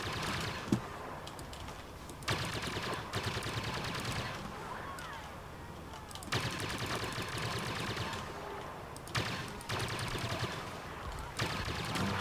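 Rifle shots in Star Wars Battlefront on the Jawa Refuge map, fired from a sniping perch, heard as several sharp cracks at irregular intervals over a steady, noisy battle background.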